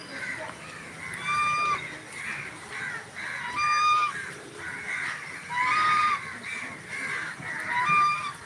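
Crows cawing in a large tree during the rain, harsh repeated calls in short bursts roughly every second, fairly close, sometimes overlapping, over a soft background hiss.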